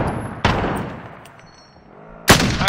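Two loud, sharp sniper rifle shots in Call of Duty: Warzone, spaced nearly two seconds apart, each with a ringing decay and no talk over them.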